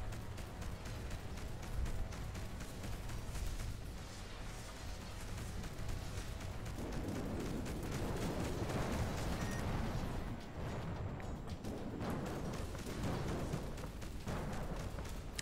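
Rapid stuttering bursts of ship weapon fire from a space sim game, a dense run of repeated shots with explosive booms, loud and continuous throughout.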